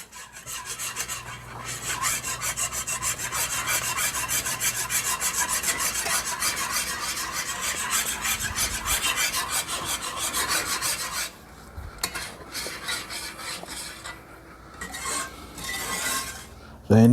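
Stirring sauce in a pot for Swedish meatballs, a continuous scraping, rasping rub of a utensil against the pot for over ten seconds, then scattered clinks and pauses.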